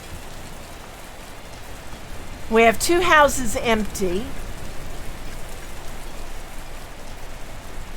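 Pouring rain in the medieval city-building game Patron makes a steady, soft hiss throughout, and someone speaks briefly over it.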